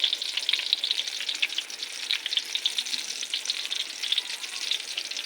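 Eggplant omelette (tortang talong) fries in hot oil in a pan, a steady close crackling sizzle with occasional stirring, heard alone.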